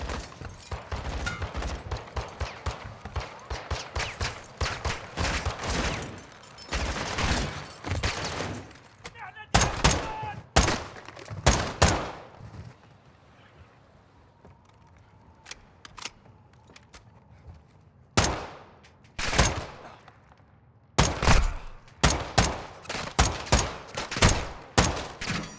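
Video game gunfire bursts in dense broadband volleys, clustered early and then separated by quiet gaps, with some faint speech-like murmur and in-game voices underneath.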